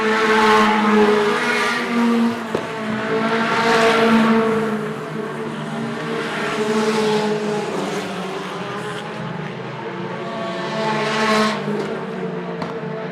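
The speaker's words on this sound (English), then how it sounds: "Still 6 laps left in the race as Jethro Swartz completes another lap" Race cars in a regional circuit race roar past in repeated waves, engines rising and fading as each car passes close by, with a steady loud drone throughout and no talking.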